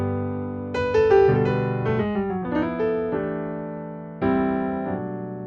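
A keyboard plays a gospel 5-1 chord progression, with several full sustained chords struck in sequence and left to ring and decay, clear and close, with no talking.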